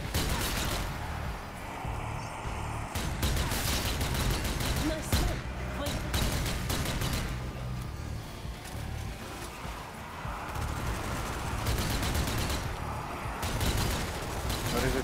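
Gunfire in Zombie Army 4: Dead War: dense bursts of rapid shots pound almost nonstop, loud and close, with brief lulls between volleys and game noise underneath.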